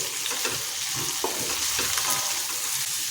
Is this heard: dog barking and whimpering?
no